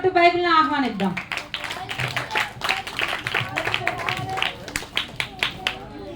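Audience applause greeting the Bible character in a Christmas skit: a burst of clapping from a crowd, dense and sustained, with sharper individual claps toward the end, starting after a short sung or spoken phrase.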